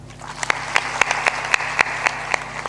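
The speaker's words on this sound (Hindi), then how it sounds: "ताली बजा दो" A small audience at a Hindu religious discourse claps in a steady rhythmic beat, sharp distinct hand claps about four per second over a low hum.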